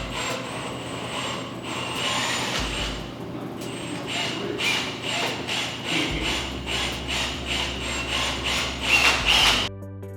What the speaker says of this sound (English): now we're going to use a step bit and drill those out